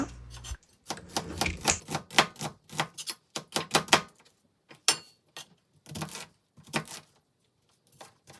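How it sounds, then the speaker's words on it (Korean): Kimchi, onion and leftover meat are cut on a board while preparing kimchi pancakes, giving a quick run of sharp, close knife taps that pause and resume in short bursts, with no talking. "김치는 반죽이 쉽게 가위로 잘라주시고 양파와 고기도 비슷한 크기로 잘 썰어주세요."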